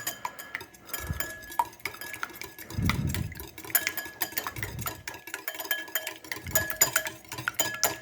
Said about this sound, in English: I'm going to whisk it